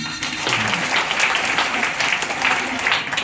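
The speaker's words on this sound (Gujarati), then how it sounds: "જો ગમે તો પછી તાળી પાડજો" Audience applause fills the room after a talent performance at a gathering, steady dense clapping from many hands sustained throughout, loud and close with no pause.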